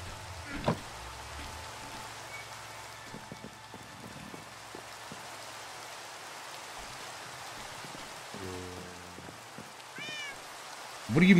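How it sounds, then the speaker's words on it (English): A cat meows a few times during a live game stream, fairly faint against a steady rain-like background hiss, with a louder sound at the end. "What are you meowing about, dude?"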